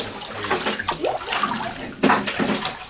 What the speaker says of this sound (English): wading in the water.